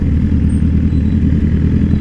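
A motorcycle rumbles loudly and steadily close by, a deep continuous engine drone with some clatter and no talk over it.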